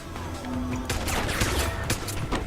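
Turret gunfire in the video game Deus Ex: Human Revolution, a dense burst of rapid shots and impacts that kicks in a second in and keeps rattling loudly, with clattering crashes scattered through it.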